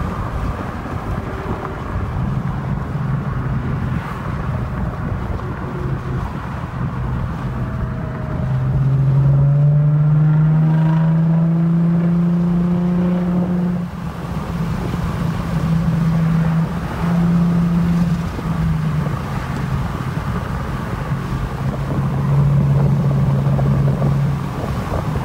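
A loud, raw exhaust drone from a Lexus IS350 without mufflers, with deep rumbling tones that swell and rise in pitch as the revs climb, then settle back to a rough idle.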